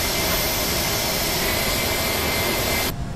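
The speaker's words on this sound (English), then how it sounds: "APU's firing up, I can hear it." An aircraft auxiliary power unit running in Microsoft Flight Simulator X at a small, quiet airport: a steady, loud turbine whine and roar that holds evenly, then cuts off abruptly near the end.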